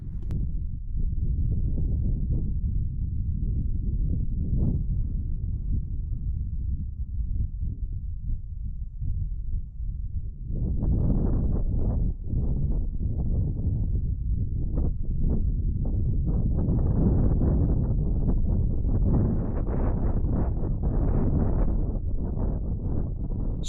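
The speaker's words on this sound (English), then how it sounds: "So the wind, as you can hear now, is blowing a good 25 miles an hour." Strong wind of about 25 mph blows outdoors where a mini wing kite is being packed, a loud continuous rumbling roar buffeting the microphone that swells in force partway through.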